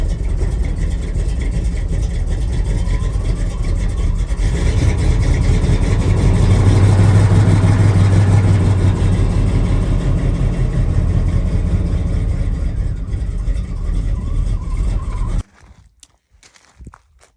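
A 1974 Chevrolet Suburban with a faulty choke, its battery recently charged, runs loud and close with a steady rough idle that swells in the middle, then cuts out abruptly near the end, leaving faint clicks.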